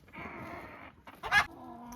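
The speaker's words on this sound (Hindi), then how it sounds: "भाई कितने सारे मुर्गे हैं," Chickens at a crowded poultry farm cluck and squawk close by, a short burst of sharp fowl calls over quiet barn noise.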